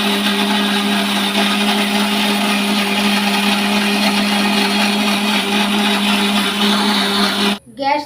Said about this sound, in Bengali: ঢাকনা বন্ধ করে মিক্সিতে একটু পেস্ট করে নেব।